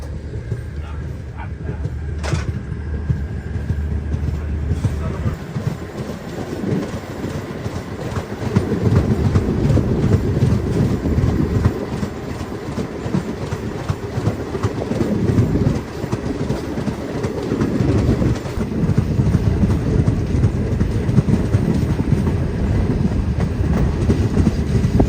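The Kashmir snow train rolls from Srinagar toward Banihal, with a steady low rumble and rhythmic clatter of wheels over the rails that builds after a brief pause. Faint talk sits under it at times.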